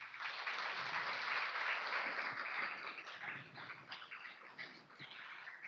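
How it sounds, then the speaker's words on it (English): Round of applause among attendees at an annual meeting, a broad patter of many hands that swells early and then thins out and fades toward the end, moderately distant. "please just look around and give yourselves and each other a round of applause."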